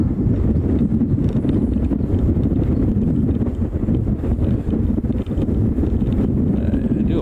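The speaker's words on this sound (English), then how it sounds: "It is quite windy out here." Strong, steady wind buffets the microphone outdoors at Kahului Airport on Maui, Hawaii, a continuous low roar with uneven gusts that runs loud for the whole stretch.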